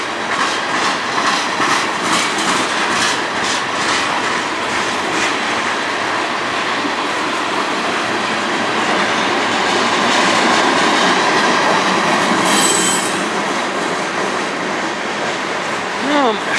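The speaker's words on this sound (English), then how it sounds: "Still a CN train, or still a CN locomotive, just not been painted to CN." A CN locomotive-hauled freight train passes at night on the Strathroy Subdivision, a loud, steady rumble and clatter of wheels on rail filling the whole stretch, close by, with a brief high squeal near the end.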